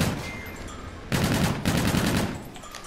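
Automatic gunfire in the Call of Duty: Infinite Warfare beta on the Terminal map in Infected mode, two loud sustained bursts of rapid shots, one right after the other, over game noise.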